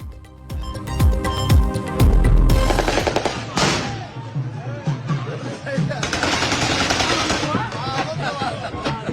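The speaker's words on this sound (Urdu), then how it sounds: "ملزمان کا ہائی فائرنگ سے استقبال کیا گیا" Celebratory aerial gunfire erupts as accused men arrive at a residence in Kamber-Shahdadkot: rapid, loud bursts of shots crackle together, then thin into scattered pops over a murmuring crowd.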